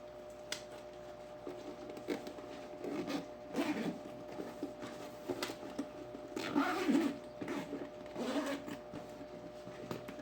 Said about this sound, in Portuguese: Ajeita aqui o zíper na parte da frente.